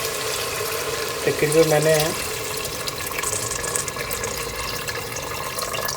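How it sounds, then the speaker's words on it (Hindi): Water pours steadily into a pot of mutton and pumpkin curry with a continuous, splashy rush, while someone speaks over it. "अब इसमें मैंने पानी डालना है"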